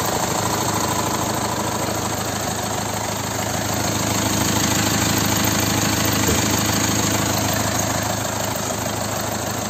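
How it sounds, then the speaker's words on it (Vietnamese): A 2011 Mitsubishi Triton SX four-wheel-drive manual diesel pickup idling, a steady low mechanical rumble with a fine rhythmic knock, constant and moderately loud for the whole stretch with no voices. "Vâng, đây là tiếng động cơ đang hoạt động đây."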